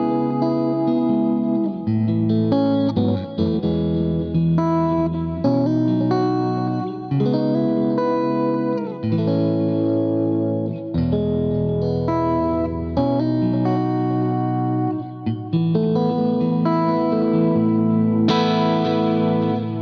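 Electric guitar played through an AC30 tone-matching preset with heavy compression rings out in jangly, chiming chords and arpeggios, with a chorus-like shimmer and slight reverb, loud and steady with no talking.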